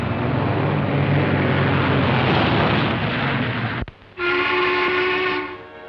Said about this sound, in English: your train's going to leave dead on time